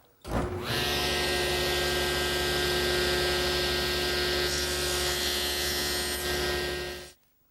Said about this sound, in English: First, I'm going to square up the top edge using my panel cutter, and I'm going to cut just to the edge of this rail.